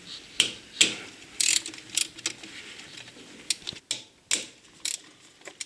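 Allen screws being loosened on the throttle body of a Porsche 911 G-model Carrera 3.2, a series of sharp ratcheting clicks and metallic snaps in uneven bursts, close up and without talk.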